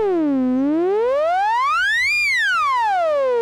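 Therevox ET-4.2 synthesizer oscillator with a bright, vocal tone, one continuous note that slides down, climbs smoothly to a high peak and glides back down, clean, loud and solo.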